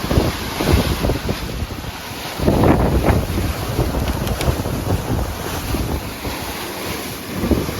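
Strong wind buffets a sailboat crossing the Sea of Cortez amid whitecap waves, loud gusty roar and rushing water close by, with heavy wind noise on the microphone and no talking.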